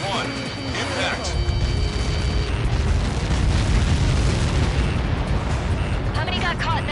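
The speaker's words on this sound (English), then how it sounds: "How many got caught in that explosion?" A large explosion in the Ace Combat 7 aerial combat game rumbles loud and sustained for several seconds, with a deep rolling roar, while radio voices talk over it at the start and end.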